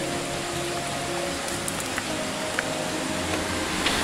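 The Suk river flows with a steady, dense rushing wash of water, even and continuous throughout, with faint scattered splashes.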